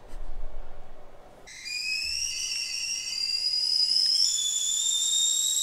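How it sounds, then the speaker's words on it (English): A stovetop kettle whistles loudly and steadily as water boils for Chemex pour-over coffee, its shrill, sustained tone rising sharply after a quiet start and holding close and unbroken to the end. "the kettle whistle is blowing, so the water is definitely boiling"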